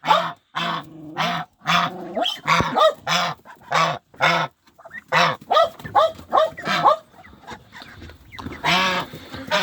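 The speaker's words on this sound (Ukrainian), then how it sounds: "І дивіться, які качки в мене є." Farm ducks quack loudly and close by, a rapid series of harsh, nasal calls in short bursts with brief pauses between, several birds overlapping at times.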